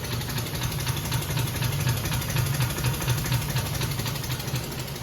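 200L perfume making machine runs its mixer with a steady, low motor hum and a faint high whine, unchanging and continuous at close range, with no voices.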